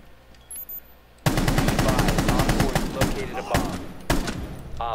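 Rainbow Six Siege gunfire opens with a loud, sustained rapid string of shots after a quiet start, followed by a few more sharp reports; faint voices sit in the background.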